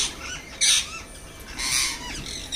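Parakeets squawk in a city setting, with two loud bursts of harsh, shrill calls separated by quieter chatter, fairly close and with no talking.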